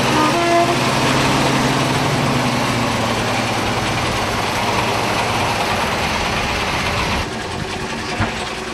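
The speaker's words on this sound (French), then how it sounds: "il y a le moteur, un beau 4 cylindres latéral" Four-cylinder side-mounted engine of a vintage rail vehicle running in a town, a steady close mechanical drone with a faint whine, dropping slightly near the end.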